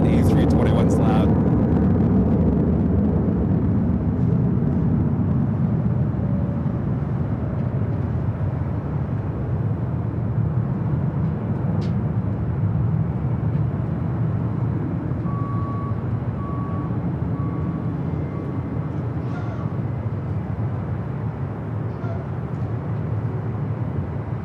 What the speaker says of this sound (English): That A321's loud.